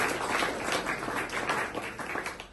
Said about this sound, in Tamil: கொஞ்சம் கையை தட்டுவோம் இணைந்தகரம்